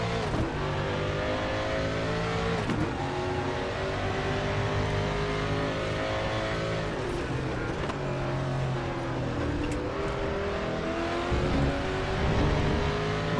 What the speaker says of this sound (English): I might shut up for a few corners so you can listen to this Mustang